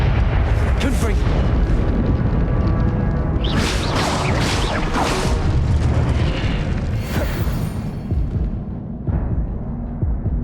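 In the Hogwarts Legacy video game, Confringo spell explosions burst as several booming blasts with whooshing tails over continuous game noise, alongside voices.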